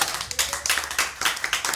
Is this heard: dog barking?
no